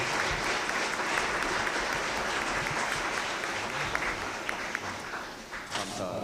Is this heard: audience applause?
yes